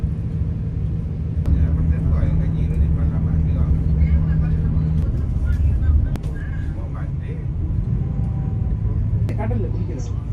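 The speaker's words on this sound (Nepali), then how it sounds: "माथि प्लेन उडिरहेछ" An airplane flying overhead in Penang, heard as a steady low rumbling drone that fills the background while people talk over it.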